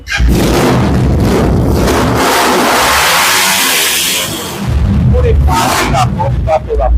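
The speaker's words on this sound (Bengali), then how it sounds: "তো শুনি বাইকের সাউন্ডটা একটু শুনি।" A newly delivered racing sports motorbike revs hard nearby on a road in Austagram, roaring up in a long loud sweep, easing briefly, then blasting again with sharp throttle bursts.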